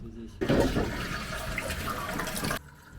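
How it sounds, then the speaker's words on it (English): Water runs from the tap into the small sink on top of a Japanese toilet tank, a steady close splashing gush that starts abruptly and stops just as suddenly about two seconds later. "This is where the water comes on. It's a small sink right behind the toilet."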